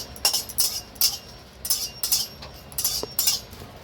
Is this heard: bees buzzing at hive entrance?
no